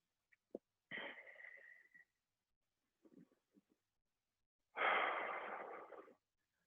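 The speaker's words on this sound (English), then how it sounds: "the goal here is to take it into the nose, out to the mouth, and also to make those exhales just a little bit longer than those inhales" During a boot camp workout class, a person breathes in through the nose and then exhales long and audibly through the mouth, with soft faint inhales and a louder, drawn-out breathy exhale.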